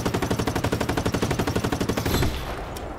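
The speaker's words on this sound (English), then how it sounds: "Who the hell is shooting really bad?" Rapid, evenly spaced automatic gunfire in the open-world game Just Cause 3, a fast machine-gun rhythm of roughly twenty shots over two seconds that then cuts off, leaving a fading echo.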